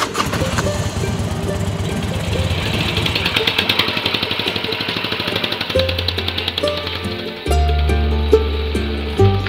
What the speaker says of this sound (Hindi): शक्ति भाई चला रहे बाइक